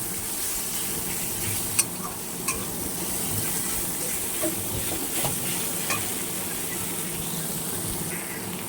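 Onions fry in oil in a pan with a steady, even sizzle, stirred with a few faint scrapes and clicks against the pan throughout.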